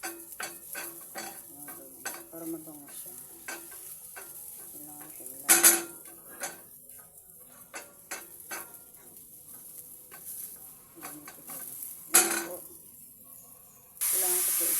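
Chicken thigh frying in a pan, a soft sizzle under scattered utensil clinks, scrapes and stirring, with a couple of sharper spattering bursts and a steady hiss at the end; a person talks at times.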